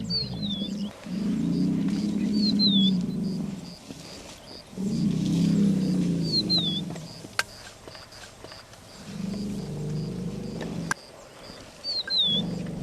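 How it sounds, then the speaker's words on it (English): Elephants in Kenya's Masai Mara give deep growling rumbles in three long, loud swells, separated by short pauses, while birds chirp faintly overhead. "In elephants, smell is the most highly developed sense, but sound, deep growling or rumbling noises, is the principal means of communication."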